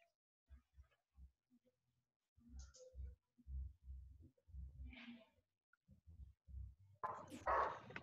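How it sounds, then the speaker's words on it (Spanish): A dog barks several times in the distance during a lecture, short low bursts spaced out, with a louder muffled rustle near the end; no speech. "Sí que hay un perro ladrando."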